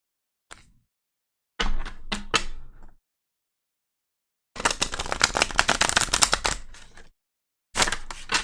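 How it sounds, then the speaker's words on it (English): Tarot cards are shuffled in several quick riffling bursts close by, separated by short silences, with one longer flurry of rapid card flicks in the middle. "Let's go ahead and shuffle, you guys."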